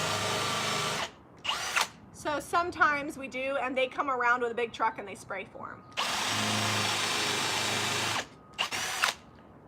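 Power drill driving screws into a salvaged barn door being built into a coffee table, loud sustained whirring bursts near the start and two long runs in the second half, with a person talking between them.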